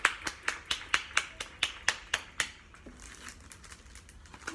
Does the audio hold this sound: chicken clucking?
no